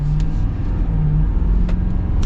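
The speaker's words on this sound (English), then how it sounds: "let's get our acceleration here with the F-250 Limited" A 2021 Ford F-250 Limited Super Duty pickup accelerating, a steady loud low engine drone holding throughout with a rising tone and no talk over it.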